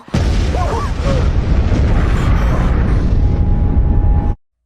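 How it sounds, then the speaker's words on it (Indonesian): A sudden loud explosion at a construction site bursts out and leaves a sustained, rumbling roar of debris and noise before cutting off abruptly. "terdengar suara ledakan dari arah area konstruksi"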